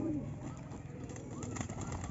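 Pigeons cooing outdoors in Gulbarga, with soft repeated low calls sitting under continuous background noise.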